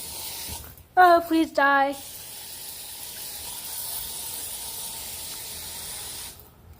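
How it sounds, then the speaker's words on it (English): An aerosol can of ant spray hisses steadily for about four seconds, close and fairly loud, right after a brief spoken exclamation, then cuts off. "we're going to get the ant spray and we're going to spray it."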